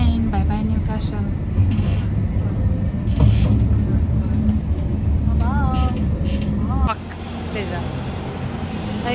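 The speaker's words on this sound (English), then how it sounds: "We are on the train." A passenger train rumbles steadily from inside the carriage on a trip back from Newcastle, a constant loud low drone under people talking, with the noise dropping abruptly near the end.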